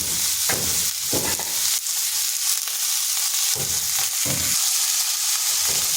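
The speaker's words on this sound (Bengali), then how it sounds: "পেঁয়াজটাকে হালকা একটু ভেজে নিচ্ছি। এরপর দিয়ে দিচ্ছি আলুগুলো।" Onion and potatoes frying in a pan, loud steady sizzling broken by repeated bursts of stirring and scraping, with no talking.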